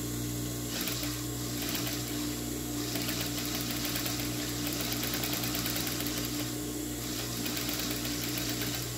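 A sewing machine stitches a dish towel in a continuous, even mechanical hum with a fast steady rhythm across the whole stretch, close and moderately loud, with no voices.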